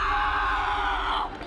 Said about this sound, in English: fencers screaming after they score a touch